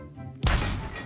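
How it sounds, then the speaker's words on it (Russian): A sudden heavy explosion booms in the building game Scrap Mechanic, one loud broadband blast after a brief quieter moment, then a rumbling decay with no speech over it. "Что за взрывы, да?"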